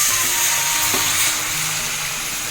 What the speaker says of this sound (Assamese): এতিয়া আমি ইয়াত গৰম পানী আগতেই কৰি থোৱা গৰম পানী ইয়াত দি দিম।